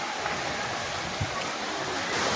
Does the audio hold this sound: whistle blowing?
no